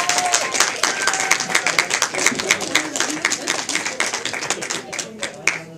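An audience at a charity penny auction gives a round of applause, dense rapid clapping that is loud at first and gradually thins out, with voices murmuring underneath.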